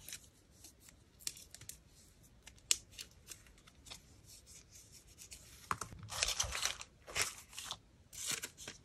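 Scissors snip through scrap paper in a quiet craft setting, a series of crisp cuts that grow denser and louder toward the end, with occasional paper rustles between snips and no talking.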